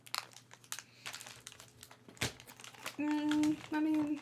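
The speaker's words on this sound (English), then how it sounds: "Is the rustling noise of a packet of biscuits more annoying or less annoying than mini cheddars?" A packet of biscuits rustled and crinkled up close, irregular crackling bursts with one sharp loud crunch midway, while a sustained tone hums toward the end.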